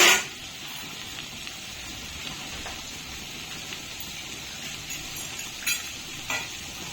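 Rice is stirred a little at a time into a fried mixture in a pan, giving a steady, fairly quiet sizzle with light scraping strokes that stay constant throughout, with no voices.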